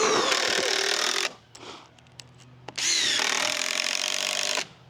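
A power drill drives screws into wood joints of a firewood bin, running in two loud, sustained whirring bursts of about a second and two seconds, with a quieter pause and a few knocks between them.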